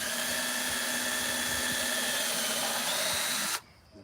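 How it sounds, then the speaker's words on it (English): A power drill grinds continuously at a steady, strained pitch as it bores into a knot in wood, close and loud, then stops abruptly near the end. "The drill bit didn't want to go into that knot."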